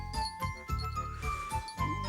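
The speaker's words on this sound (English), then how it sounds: "You've got the bicycle bell on your tail!" A bicycle bell caught on Jumbo the cartoon elephant's tail jingles and tinkles in a quick run of bright rings, close and fairly soft, with a few light knocks between them.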